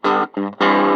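A guitar is played through a modded Pignose 7-100 amp and gives loud, distorted bursts: two sustained chords split by a short, softer one, close and raw.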